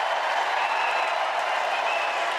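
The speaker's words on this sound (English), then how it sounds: "Y'all applauding too much." A large audience claps and cheers for Barack Obama in one dense, continuous wash of applause, loud and even from start to finish.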